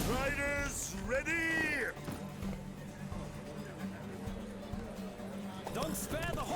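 Horses gallop in a race in The Witcher 3 video game, rhythmic hoofbeats running steadily under character dialogue and shouts, with a low continuous rumble beneath.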